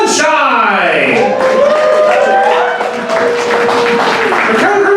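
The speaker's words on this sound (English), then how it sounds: "please give a huge round of applause" Loud applause breaks out at a live poetry night during a birthday show as the first poet of the second half is introduced, dense clapping under whoops and shouted cheering voices.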